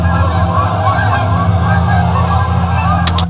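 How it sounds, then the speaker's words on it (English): Geese recorded by a camera while filming a fence honk repeatedly over a steady low outdoor rumble, with a couple of sharper honks near the end. "the geese audio were actually in fact on my camera when I was recording the fence"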